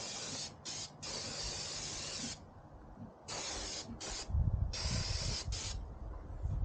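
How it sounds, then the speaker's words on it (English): A brake cleaner aerosol can hisses in several short bursts on a Jeep Wrangler axle, some brief and some longer, with faint handling noise in the pauses between sprays. "Brake cleaner."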